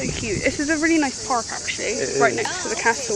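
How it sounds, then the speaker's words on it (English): Crickets chirp in a steady, continuous high drone in a park by a pond next to a castle, running under a person talking close by. "sorry if you can only hear the crickets in the background."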